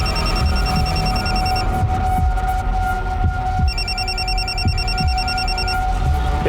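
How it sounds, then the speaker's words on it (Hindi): A mobile phone rings with an electronic beeping tone in two bursts, one at the start and one later, over a steady low hum with occasional soft thumps and no speech. "ये फोन किसका बज रहा है?"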